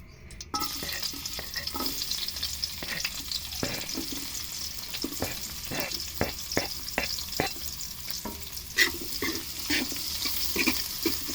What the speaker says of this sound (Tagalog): gisa natin yung bawang